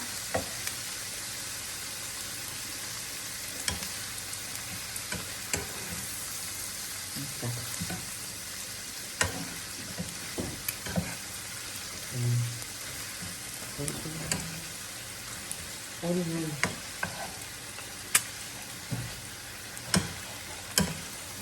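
Quail eggs frying in a pan on a stove, with a soft, steady sizzle and scattered light crackles and ticks throughout, fairly quiet and close, with no talking.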